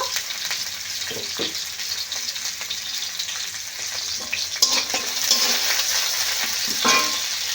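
Onions with black cumin seeds and chopped green chillies sizzling in oil while a spoon stirs them, steady close frying hiss with intermittent scraping strokes against the pan and no speech.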